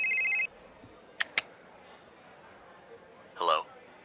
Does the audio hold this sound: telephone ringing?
yes